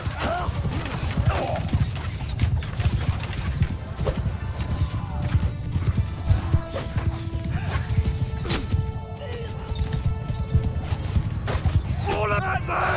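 Constant clatter of many hooves and battle din in Mount & Blade 2: Bannerlord, with occasional horse whinnies rising above the continuous rumble.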